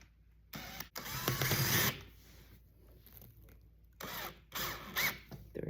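Screws are driven tight into a foot stool with a power driver or tool, giving bursts of whirring and ratcheting in two main runs with brief pauses between them.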